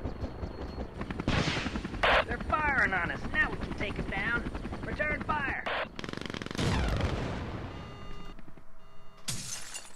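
Missiles and gunfire strike the player's airship in a video game: heavy explosive blasts, crashes and bursts of shooting pile up over a steady mechanical drone, loud and close, with voices talking over the din.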